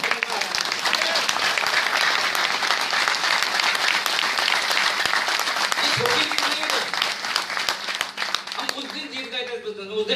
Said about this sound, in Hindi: अपने लिए ताली बजा सकते हैं